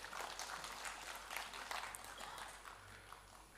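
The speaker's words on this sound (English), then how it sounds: "The department also needs applause" Faint applause from many hands blends into a continuous wash of clapping that fades slightly toward the end.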